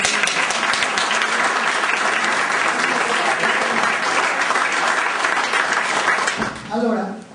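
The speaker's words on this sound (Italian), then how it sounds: "Applauso." Sustained applause from an audience at an award ceremony, loud and steady for several seconds before tapering off, with a voice briefly emerging near the end.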